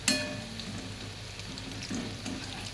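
Banana stem fritters fry in hot oil, a soft, steady sizzle close by with a few gentle bubbling pops and quiet stirring.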